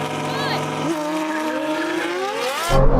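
A Ferrari V12 and a Nissan NISMO V6 launch in a drag race, engines screaming and roaring, pitches sweeping upward quickly, loud and close, with a voice shouting over the noise.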